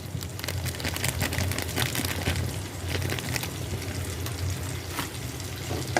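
Chilli powder, Kashmiri chilli and cumin paste fries in oil with a steady, dense sizzle, continuous and close with small crackles and no talk.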